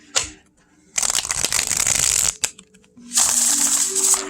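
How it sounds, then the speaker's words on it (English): A deck of glossy, chunky oracle cards is shuffled by hand in loud crisp bursts, one short riffle followed by two longer rustling runs separated by brief pauses. "And I don't know why I always like to shuffle 3 times."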